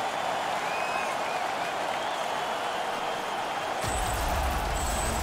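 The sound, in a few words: hockey arena crowd applauding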